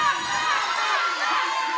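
Girls yell and cheer loudly for a lifter at a USA Powerlifting meet in Indiana, a dense, continuous wash of high shouting voices close by throughout.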